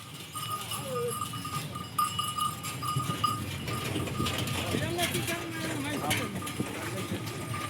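Kathiawadi goats packed in a truck at a livestock sale, with scattered bleats rising over a busy crowd as people talk nearby, plus some clatter and bell-like tones.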